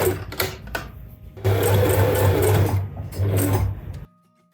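Sewing machine running on muslin, stitching a 1.5 cm seam allowance for a kaftan dress: a steady mechanical whir in two long bursts after a few short starts, close and loud, then stopping.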